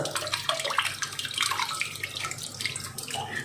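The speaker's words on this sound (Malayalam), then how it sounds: "അരച്ചുകൊടുന്ന ചെറുനാരങ്ങ നീര് ഇതിൽ കൂടെ അരിച്ചെടുക്കാണ്" Ground lemon juice strained through a sieve gives a steady close-up trickle and splash of liquid, continuous for several seconds with no voices.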